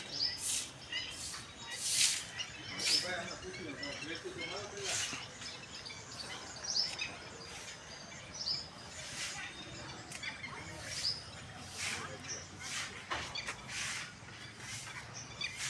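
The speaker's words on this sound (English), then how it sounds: "Look at the pretty noise of birds clipping." Birds chirp and tweet in short, scattered morning calls over a faint outdoor background, fairly quiet and somewhat distant.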